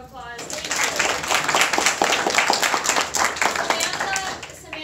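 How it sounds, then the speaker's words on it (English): An audience at a UCF startup accelerator talk on intellectual property claps for a guest speaker, a brief burst of scattered hand clapping mixed with overlapping talk that fades out after a few seconds. "Let's give Jack another round of applause"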